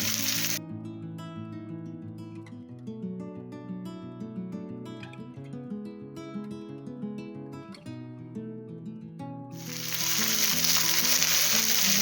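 Marinated koddai fish fries in a pan with a bright, hissing sizzle, heard briefly at first, then buried under melodic background music, before returning loud and steady at the end.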